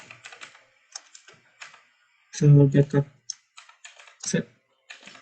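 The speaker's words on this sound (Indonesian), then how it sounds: "Kemudian kita membuka notepad, kita ketikkan kode set file underscore backup" Keys clatter on a computer keyboard as code is typed into Notepad, in quick irregular bursts of close, crisp clicks with short pauses, and a brief voice speaks in the middle.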